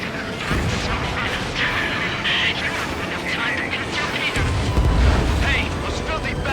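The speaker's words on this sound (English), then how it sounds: "Missile launched." A missile launch in the Ace Combat 7 jet combat game, heard as a dense, continuous roar of engine and rocket noise with a deeper surge near the end, loud and steady throughout.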